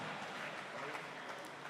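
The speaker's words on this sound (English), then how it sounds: "keep clapping, keep clapping" Audience applause at the Africa Sings Festival in Asaba, a steady wash of many hands clapping close and continuous throughout, with no break.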